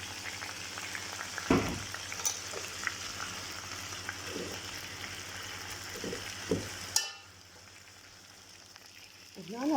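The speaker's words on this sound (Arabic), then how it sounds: "هسه حضيف الدجاج والبصل على الهاي. طبعا معهم بزيت اريد يمشي" Chicken and onion frying in oil over high heat for Yemeni chicken majboos, a steady close sizzle with a few stirring knocks; the sizzle drops away abruptly near the end.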